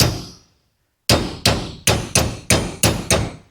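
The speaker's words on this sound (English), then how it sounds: "we'll just give it a couple taps here" A hammer taps a steel 8.8 rearend bracket for an 82-02 F-body held in a vise: one ringing clang, a short pause, then six evenly spaced metallic strikes, close and loud.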